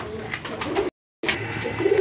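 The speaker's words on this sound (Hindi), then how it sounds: "बड़े ज़बरदस्त कबूतर हैं व्यूअर्स" Old-breed Teddy pigeons coo in close, clear, repeated throaty calls, broken by a brief moment of total silence before the cooing resumes.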